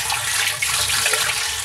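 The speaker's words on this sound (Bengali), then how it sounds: "2 থেকে 3 বার এগুলো আমি ভালোভাবে হাত দিয়ে ধুয়ে নেব।" Onions and green chillies being washed by hand in a bowl of water, a steady close splashing and sloshing that runs without a break and with no talk.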